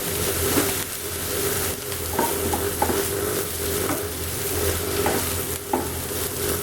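Food frying in a pan, stirred with a utensil that scrapes and knocks against the metal at irregular moments, over a steady close hiss of sizzling oil.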